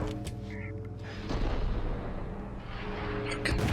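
Shotgun blasts in the video game Max Payne: heavy, booming shots over a dense, continuous wash of game music and ambience, with no voices.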